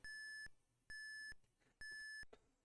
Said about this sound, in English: It's got to beep a few dozen times.